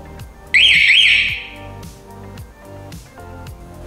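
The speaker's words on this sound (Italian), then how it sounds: "Disarmiamo l'impianto e vediamo la reazione della sirena." A Futura wireless indoor home alarm siren sounds a short warbling two-tone electronic chirp to signal disarming, loud and close, followed by a quieter steady background with a rhythmic low pulse.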